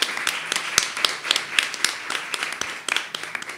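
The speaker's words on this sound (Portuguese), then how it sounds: "Palmas para todo mundo." An audience at a closing event of a panel discussion applauds, with irregular claps from a modest crowd that rise and fall briefly, with no talking.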